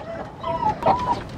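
A broody hen squawks loudly in a chicken coop, two close drawn-out protesting cries in quick succession with no talk over them.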